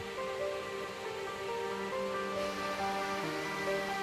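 Steady, rushing water noise from a three-tiered waterfall on Ulleungdo island fills the whole stretch, a continuous broadband roar of falling water, with no voices.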